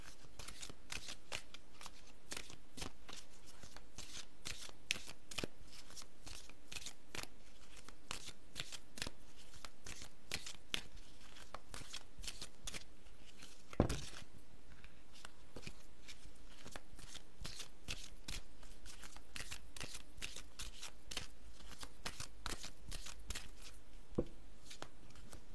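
Tarot cards shuffled by hand, a steady run of quiet riffling and slapping card sounds with one sharper tap midway, close and alone without talk.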